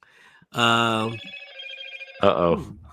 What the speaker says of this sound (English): Ed's getting a phone call.